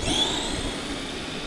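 Arrma Vorteks 550 Mega 2WD RC stadium truck electric motor at full throttle, a steady high-pitched whine that holds level and eases slightly, moderately loud and alone.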